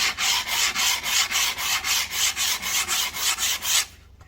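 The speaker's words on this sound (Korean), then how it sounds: "그래서 여기를 사포를 이용해서 샌딩을 해줍니다" Rhythmic back-and-forth rasping of sandpaper on rough-cut solid wood, about fourteen even strokes close up, then it stops and goes quiet.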